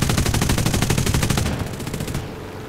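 Gunfire in a video game: a rapid, loud automatic burst of evenly spaced shots that runs for about two seconds before tapering off into quieter noise.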